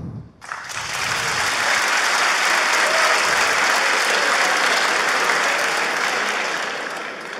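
Sustained audience applause at a live comedy show, a dense steady wash of many hands clapping that starts abruptly after a brief pause and holds strongly for several seconds before easing slightly at the end.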